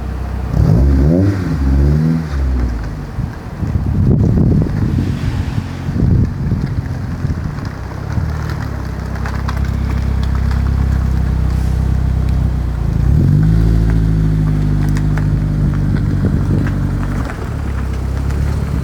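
A Honda S2000 rolls in from a test drive on new arches, engine note rising and falling with revs, close and loud with wind buffeting the microphone and a steady idle hum toward the end.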